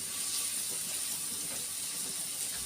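Onion frying in butter with a little oil in a pan, a steady loud hiss and sizzle running continuously without pause.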